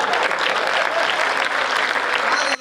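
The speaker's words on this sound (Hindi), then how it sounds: "करो तालियां बजाओ।" Listeners at a Hindi comic poetry gathering, a hasya kavi sammelan, break into loud, continuous clapping that stays full for about two and a half seconds before cutting off.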